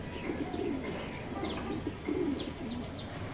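Pigeons at a loft coo in soft, repeated low calls, joined by a few brief chirps, the birds close and moderately quiet with no talk.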